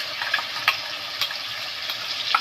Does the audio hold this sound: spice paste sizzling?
yes